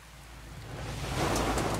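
Pouring rain in EA Sports WRC on the Safari Rally Kenya stage: a dense, steady broadband hiss of rain that swells slightly louder toward the end, with no voices.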